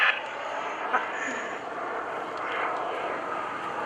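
FLS Microjet, a tiny single-seat jet, flying at the 2013 Greenwood Lake Airshow: a steady, broad jet roar heard from a distance, with faint voices now and then.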